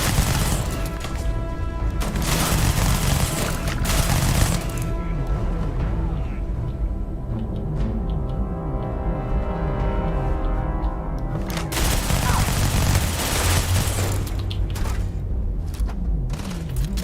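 Minigun fire in the space game Starfield, a sustained, dense mechanical roar of rapid shots with loud bursts and steady rattling, mixed with other game noise.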